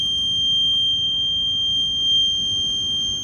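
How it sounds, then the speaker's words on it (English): A door maglock alarm emits a steady, high-pitched electronic tone that holds unchanged and alone over a low hiss, until it is reset with a key. "resets the alarm"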